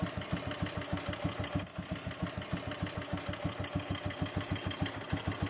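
An NSU Max German 250cc motorcycle engine idles close by, a steady, evenly spaced thumping beat with a brief dip partway through, no voices.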